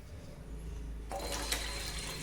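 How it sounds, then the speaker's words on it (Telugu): Water gushes into a cooking pot for Hyderabadi dum biryani rice, starting abruptly and pouring steadily nearby after a quiet moment. "8 కప్పుల వాటర్ పోస్తా అని 9 కప్పుల వాటర్ కూడా పోస్తా"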